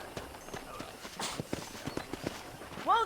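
Horse hooves clip-clopping at an easy walk in the Red Dead Redemption video game: an even, moderately close rhythm of hoof strikes, with a short voice call at the very end.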